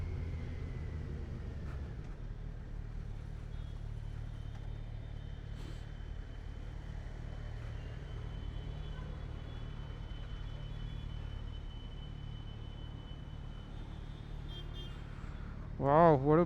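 A 2020 Kawasaki Z900 motorcycle cruises steadily through Mumbai with a constant low engine rumble and road noise, ending in a brief louder burst near the close.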